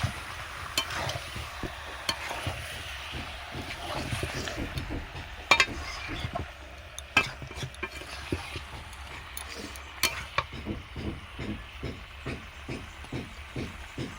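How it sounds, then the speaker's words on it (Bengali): Chicken and potato pieces are stirred with spices in a pan for a home-style Bengali chicken kosha, giving repeated rhythmic scraping strokes over a soft sizzle, with a few sharper knocks. "আলু এবং মাংস দিয়ে দিয়েছি এবারে ভালো করে মিশিয়ে নেব মশলার সঙ্গে"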